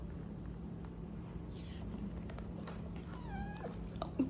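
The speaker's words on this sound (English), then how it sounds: "You guys hear Knox meowing" A cat meows several times in a row, rising and falling, fairly close over a steady low hum, with a faint thump near the end.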